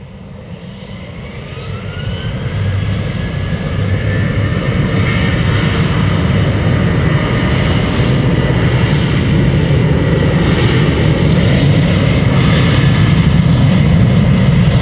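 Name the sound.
KLM Boeing 737-800 lining up and departing Schiphol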